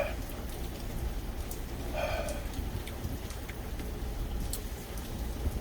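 Heavy typhoon rain pouring down in a steady, dense hiss that runs throughout, loud and unbroken, with no voices.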